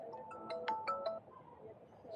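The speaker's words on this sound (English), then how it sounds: "Getting a phone call" A phone ringtone plays during a walk along the Tel Aviv beachfront near the Manta Ray restaurant, a few short melodic chirps, faint and close, over low ambient background.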